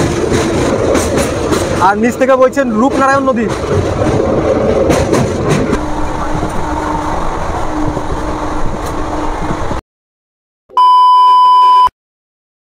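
Special train 03161 from Kolkata to Digha rolls across the Kolaghat rail bridge over the Rupnarayan river with a loud, steady rumble and rhythmic clatter, someone talking over it, then brief silence and a short electronic tone.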